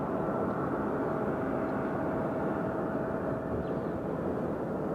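A CRJ regional jet taxis out at Nashville International Airport, a steady, loud broadband engine roar that holds constant throughout with a faint tonal whine above it.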